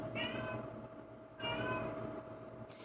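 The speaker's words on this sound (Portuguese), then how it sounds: "Minha gata Bela." A pet cat meows twice in a row indoors, each call clear and fairly close, with a steady low hum underneath.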